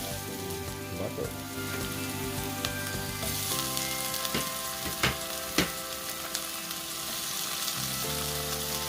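Butter fries in a pan for chicken afritada with a dense, steady sizzle like light rain, broken by a few sharp clicks and clatters close by.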